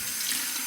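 A tap runs steadily into a sink to rinse a Merkur Progress safety razor, a brief, close, even hiss of flowing water.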